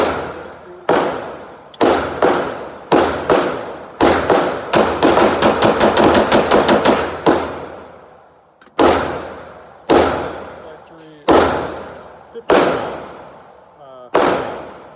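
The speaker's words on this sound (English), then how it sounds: "If you're going to conceal carry something, go test it. Fire it." Gunshots from a freshly home-built 80% Glock 17 pistol at close range: loud single shots spaced apart, then a fast string of rapid fire, then more separate shots with echoing decay.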